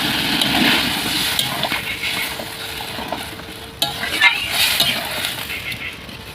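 Water goes into a sautéed pointed gourd and egg curry in a pan. A close, busy sizzle and spatula stirring swell into a louder, hissing burst partway through, then settle back into frying.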